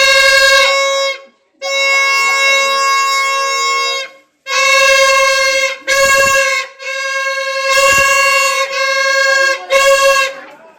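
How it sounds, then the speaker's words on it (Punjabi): Horns on a children's homemade vehicle sound in a series of loud, close blasts of varying length with short gaps between them, like a repeated honking pattern. "ਇਹ ਹਾਰਨਾਂ ਦੀ ਆਵਾਜ਼ ਆ ਜਿਹੜੀ ਇਹ ਰੇਲ ਗੱਡੀ ਨਾਲੋਂ ਵੀ ਜ਼ਿਆਦਾ ਹੈ"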